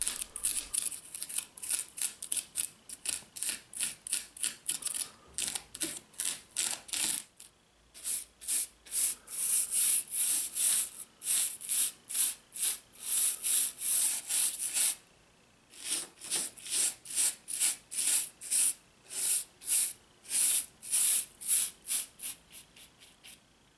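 An X-Acto knife carves styrofoam terrain for an N-scale model railway layout, giving a long run of rapid, rhythmic scraping and crunching strokes, close and fairly loud, broken by two brief pauses.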